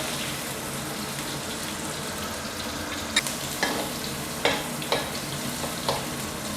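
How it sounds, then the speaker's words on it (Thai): Shrimp and squid stir-fried in hot oil give off a steady loud sizzle, while the metal utensil lands in a series of sharp clanks and scrapes in the later half, with no talking. "กุ้งกับปลาหมึกลงไปผัดเลยนะครับ ผัดแค่พอสุกนะครับ"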